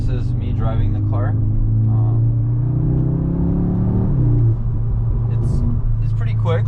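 A 2024 Audi S3 8Y driving, its steady engine drone and road rumble heard from inside the cabin as it rises slightly in pitch, with someone talking over it throughout.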